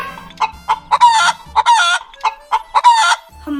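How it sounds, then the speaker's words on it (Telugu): A rooster crowing and clucking close by, a loud run of sharp, harmonic calls in quick bursts, some rising into longer crow-like notes, with short gaps between them. "ఇప్పుడు కోడి దొరికేసింది."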